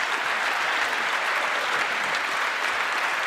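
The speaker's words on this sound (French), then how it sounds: "Moi, je voudrais qu'on les applaudisse tous les deux." Dense, continuous applause from an audience at a French book presentation event, steady and fairly loud throughout with no pauses.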